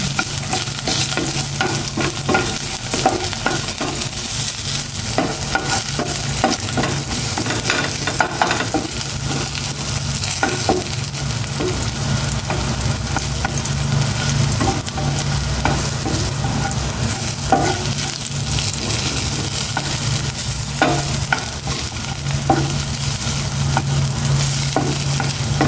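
Garlic frying in cooking oil for a sauce: a loud, dense, continuous sizzle and crackle, close up, with faint scraping of a utensil throughout and no voices.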